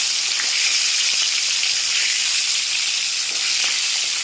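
Pieces of fish fry in hot oil for a fish curry, giving a steady, dense sizzle that stays loud and even from start to finish, with no voices.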